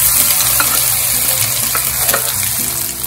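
Split green gram dal frying in ghee for payasam, a steady close sizzle with faint stirring scrapes throughout and no voices.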